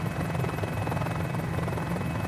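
Steady engine and rotor drone of a Mini-500 helicopter in a flight simulator game, a continuous loud low hum with a whine above it and no break throughout.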